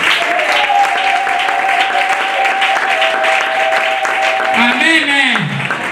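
A church congregation applauds and acclaims Jesus during a French-language service, with steady, loud clapping and crowd cheering throughout, a sustained sung or shouted tone running beneath, and voices rising near the end.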